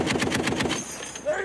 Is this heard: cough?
no